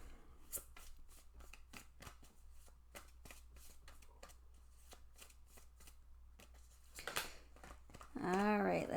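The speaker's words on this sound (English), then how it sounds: "let's shuffle the cards." Tarot cards are shuffled by hand in rapid, crisp riffles and flicks, close and fairly quiet, with a brief voice coming in at the end.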